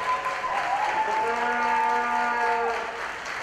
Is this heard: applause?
yes